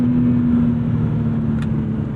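1997 BMW E36 M3 sedan with a manual swap, its engine droning steadily at a held pitch from inside the car, loud and continuous with a faint click near the end.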